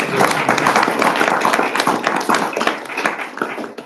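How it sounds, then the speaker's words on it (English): People at a council committee meeting give students a round of applause, a dense, fairly close burst of many hands clapping that fades slightly toward the end. "I think we should give them a big round of applause"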